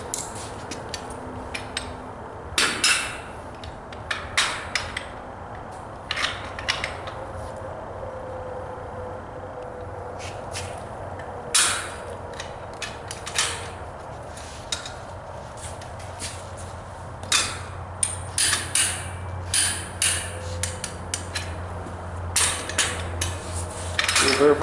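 A torque wrench being used to check the connections on an MWD drilling tool produces scattered metallic clicks and clanks, close and moderately loud, spread irregularly over a quiet background.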